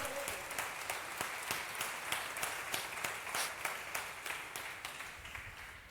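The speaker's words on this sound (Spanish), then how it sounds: "Démosle un aplauso a Él" A church congregation gives a round of applause during a sermon, faint and somewhat distant, with many hands clapping and a few sharp, individual rhythmic claps standing out at a steady pace for about six seconds.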